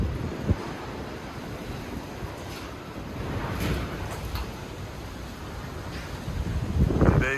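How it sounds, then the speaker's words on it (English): Strong wind outdoors on a high fire risk day, buffeting the microphone with a continuous roaring rush that swells and gusts louder near the end, with no one speaking. "it's so windy"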